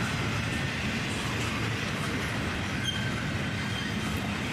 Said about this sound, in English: A southbound intermodal train,